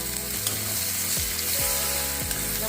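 Chopped tomato and onion hit a sizzling tempering of spices in hot oil for a Bengali rohu fish curry, a steady loud frying hiss with a few scraping stirs, no voices.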